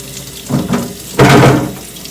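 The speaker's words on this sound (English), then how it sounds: "First thing we need to do is fill the cleaner container with water and cleaner." Warm tap water runs into the cleaner container of a carpet cleaning machine, coming as two short splashy bursts and then a louder, steadier gush of filling water, close by with no talk.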